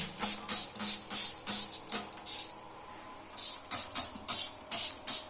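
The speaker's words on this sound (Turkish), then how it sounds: "Her yere sadece sıkıyorum." Asperox cleaner sprayed by trigger bottle onto a grimy shower cabin, around the faucet area: a steady run of short hissing spray bursts, about a dozen in quick rhythmic groups with a brief pause in the middle, close and clear.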